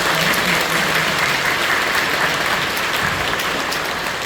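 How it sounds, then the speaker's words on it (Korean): Audience applause filling a church, a dense, loud, sustained wash of many hands clapping at once, steady throughout with no pauses. "운명과 같은 박수를 부탁드립니다"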